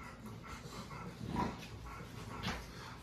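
A dog heard close up, giving soft whimpers and panting huffs in a few short bursts over a low, steady background.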